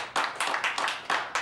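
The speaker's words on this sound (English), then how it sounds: "Let's give Him a hand clap." A church congregation claps in unison in about five separate bursts, each a short rhythmic flurry of hands with small gaps between them, moderately close but fairly quiet.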